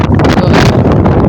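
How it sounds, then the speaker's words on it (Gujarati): Strong stormy wind on a rooftop during a cyclone roars loud and steady, buffeting the microphone without a break. "તો આપણે એટલો પવન છે ને તો એ ધાબા ઉપર આવી ગયા છીએ."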